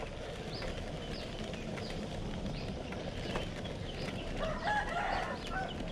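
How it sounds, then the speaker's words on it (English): A flock of chickens clucks continuously in a busy, overlapping chorus, with a rooster crowing among them, heard outdoors at moderate distance and with no talking. "And they're off doing their chicken bit now."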